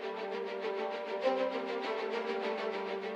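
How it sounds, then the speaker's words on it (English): Orchestral string section with the second violins placed far to the right of the stereo image, playing a sustained, steadily pulsing passage at even volume with no talking. "So you can hear that the second violins are sitting way to the right."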